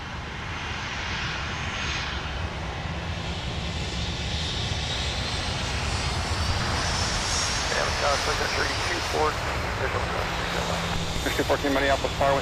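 An airliner takes off from runway 30 left at Minneapolis–Saint Paul in winter, its engines roaring steadily and building as it passes close by, with radio chatter and voices running underneath the whole time.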